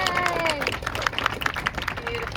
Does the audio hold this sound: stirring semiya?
no